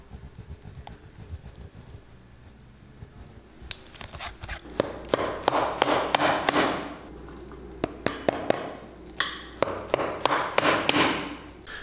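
Quiet rustling gives way to rapid bursts of hammer strikes nailing the heel of a Cole Haan loafer, sharp repeated taps in quick clusters, close by, with short pauses between volleys.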